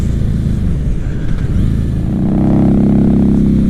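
Loud, close 2016 Harley-Davidson Night Rod motorcycle engine pulling hard on the road, its rumble swelling into a sustained high-rev drone during an overtake, with wind buffeting underneath.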